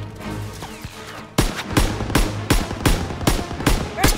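Gunfire in the WWII shooter Call of Duty: WWII: after a short stretch of battle noise, a steady run of loud, evenly spaced shots rings out, about seven sharp cracks in quick rhythm, close and dominant.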